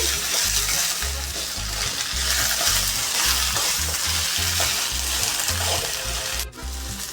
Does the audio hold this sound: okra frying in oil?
yes